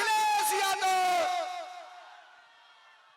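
A political rally crowd in Chapra, Bihar roars with loud, sustained cheering and whoops that fade over a few seconds, the shouting dense and close at first, then thinning out.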